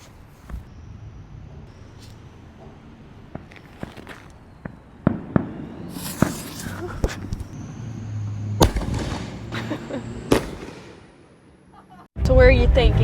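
Consumer fireworks set off outdoors behind an old folks home, a series of sharp bangs and crackling pops at irregular intervals, growing denser, ending in a loud rushing burst, with some footsteps and talk around them.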